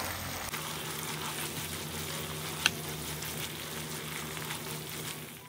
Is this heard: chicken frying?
yes